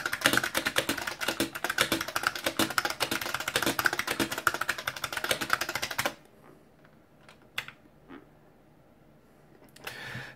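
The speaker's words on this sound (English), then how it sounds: "once you actually start typing on it, you'll notice that yes, the key sound is extremely loud." Loud, rapid clacking of a new Model F 62-key mechanical keyboard being typed on, dense and continuous for several seconds, then stopping with only a few scattered faint clicks.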